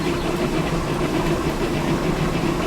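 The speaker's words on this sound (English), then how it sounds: "You can just hear how out of time your engine is." Steam locomotive engine in the Century of Steam game, running badly out of time with leaking injectors and cylinder packing: a steady, dense mechanical rumble and chuff with a low drone, continuous and fairly loud throughout, no voices.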